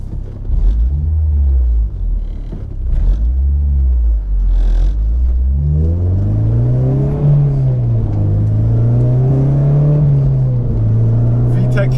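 An Acura RSX Type-S with VTEC revs up through the gears while driving, its engine note rising and falling in loud repeated pulls with a steady road rumble underneath.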